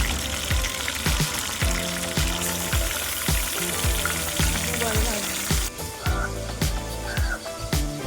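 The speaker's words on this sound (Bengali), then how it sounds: "এবার চি ম্যারিনেট করা চিকেনগুলো একে একে আমরা সাদা তেলের মধ্যে ছেড়ে দেব এবং খুব সুন্দর গোল্ডেন ব্রাউন করে ভেজে নেব" Marinated chicken pieces for a mango chicken tikka masala fry in white oil, giving a steady bright sizzle throughout, with rhythmic background music beats over it.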